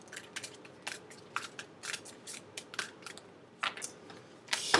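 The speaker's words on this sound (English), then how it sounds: "Last shuffle." Repeated crisp, papery snaps and riffles of tarot cards being shuffled, arriving in short irregular bursts over a quiet background.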